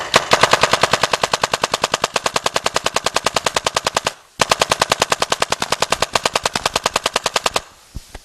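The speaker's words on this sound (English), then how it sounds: "Cock it. Let's shoot it." A Tippmann A-5 paintball marker fitted with a Virtue electronic board fires in rapid bursts at 10 balls per second, a loud, evenly spaced stream of sharp pops broken by one brief pause before a second long volley.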